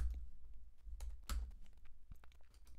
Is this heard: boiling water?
no